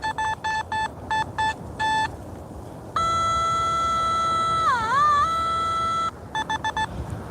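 A metal detector sounds during a night coin hunt: quick bursts of short electronic beeps, then a long sustained tone that warbles in pitch midway, followed by more short beeps.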